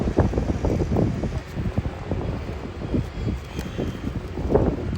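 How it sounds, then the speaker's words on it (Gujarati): Strong outdoor wind gusts buffet the microphone in uneven rumbling bursts, moderately loud and continuous near a building. "બહુ પવન છે ને"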